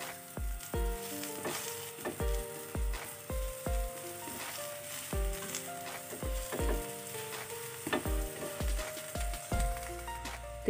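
Egg paratha frying on its second side in desi ghee on a griddle, a continuous sizzle overlaid by a rhythmic repeating pattern of tonal pulses, with nobody speaking.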